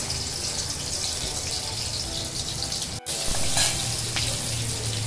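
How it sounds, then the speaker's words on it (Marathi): Chopped onion hits three spoonfuls of hot oil for a Konkani mandeli fish curry, giving a steady, close, hissing sizzle that dips for a moment and then carries on. "तेल गरम झालं आहे तर मी आता इथे कांदा फोडणीला घालते"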